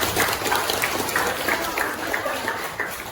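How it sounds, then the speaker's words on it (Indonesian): Classmates applaud together in a school class setting, a steady clatter of many hands clapping at close range, with some voices mixed into the noise throughout. "tepuk tangan untuk teman-teman"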